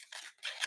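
Scissors cutting paper for a ladybug craft: two quick close snipping strokes, crisp and fairly quiet, with no talking.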